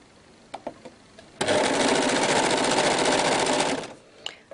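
An overlocker set to a short stitch of about 2 mm runs a steady, fast, buzzing seam through thin fabric for a few seconds, starting abruptly and stopping cleanly, with quiet handling clicks around it.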